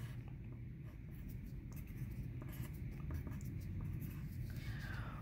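A pen drawing a diagram on paper, soft continuous scratchy strokes heard up close and faint over a low background hum, with no voices.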